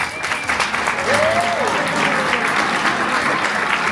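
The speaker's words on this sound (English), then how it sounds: "Give these a massive round of applause." Audience applause at a bar show, a dense, sustained wash of clapping from a crowd with a few faint voices and whoops mixed in, loud and even throughout.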